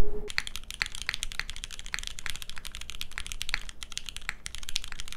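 Fast typing on a 65% aluminum-case mechanical keyboard (SingaKBD Kohaku) with linear MX Black switches, a continuous stream of crisp, close keystrokes with a deeper clack on some keys.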